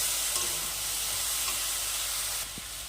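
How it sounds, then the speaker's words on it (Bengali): A filling with ginger for kadam pitha sizzles and hisses steadily in a frying pan, close and loud, with a faint clink of stirring near the end and no talking. "আদাটা দেওয়ার পরে আবারও ভালো করে নেড়ে চেড়ে সুন্দর কষিয়ে কষিয়ে পুরটাকে রেডি করবো"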